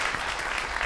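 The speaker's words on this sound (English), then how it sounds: "clap it up for them, everybody" Audience applause at the CRE18 Peacemakers gathering: a dense, steady burst of many hands clapping together, loud and continuous for under a second.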